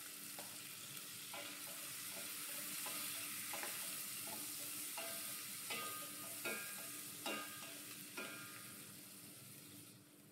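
Garlic fries in a pan with a steady soft sizzle under repeated light scrapes and taps of stirring. The sound is faint and has no voices.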